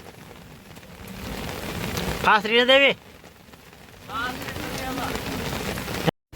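Heavy rain roars in a constant broad hiss where a JCB and tractor are working, while two short stretches of someone speaking loudly rise above it.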